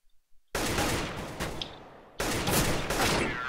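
Gunfire in the video game CS:GO, with loud sustained bursts of rapid automatic shots close up, broken by a short pause, after a few quiet clicks at the start.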